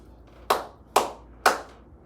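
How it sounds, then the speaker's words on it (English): Three sharp, separate hand claps spaced about half a second apart ring out close in a quiet room before a podcast recording, each clear and isolated with a short decay. "I'm gonna clap."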